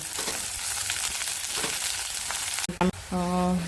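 Green onions sautéing in a pan for Kathiyawadi-style ringan no olo give a steady close sizzle. A few clatters and a brief tonal beep break in near the end.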